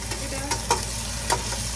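Peanuts and raisins fry in hot oil with ginger and bay leaf while a spoon stirs them, a soft, close sizzle broken by a few light scraping clinks.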